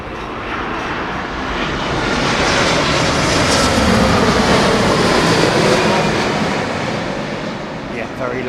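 Etihad jet airliner departing from runway 09R, a loud sustained broadband engine roar that swells to a peak mid-clip and slowly fades, with people talking faintly nearby.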